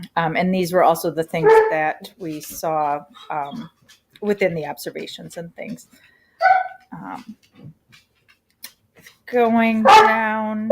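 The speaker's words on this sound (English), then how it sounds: "oh, you'll have to excuse the dogs." Dogs bark and yip indoors, partly masked by a person talking at length; a louder cluster of barks breaks in toward the end.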